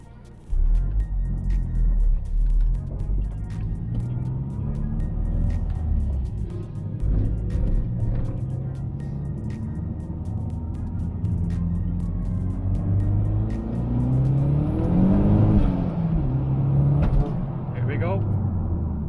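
Mazda 3 MPS (Mazdaspeed 3) turbo engine running at 20 psi boost with an eBay front-mount intercooler kit, a boost pipe blowing off. A steady close engine drone rises in pitch through revs, with hissing bursts of escaping air.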